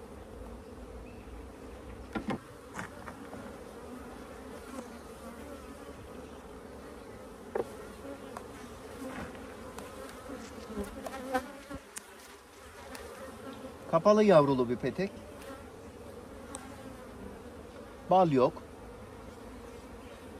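Honeybees and drones buzz steadily on a capped brood comb with no honey in a hive, a continuous droning hum with a few louder passes near the end while someone talks over it.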